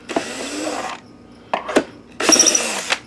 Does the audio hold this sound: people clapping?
no